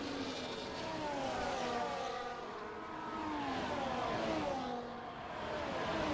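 Race cars in a racing game on the Hungary circuit, several engines whining and shifting pitch as the pack follows closely, a steady layered drone with rising and falling tones.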